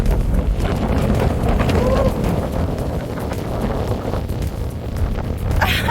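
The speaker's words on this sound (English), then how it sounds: "It's very windy here." Strong wind buffets the microphone with a steady low roar for several seconds in sandy open country in Namibia, with faint rustling and a brief burst near the end.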